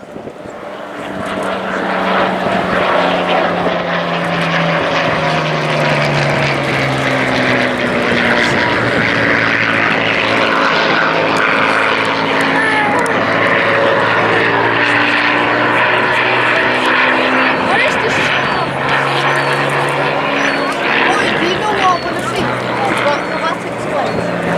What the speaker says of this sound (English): Spitfire Mark 16 was built at Castle Bromwich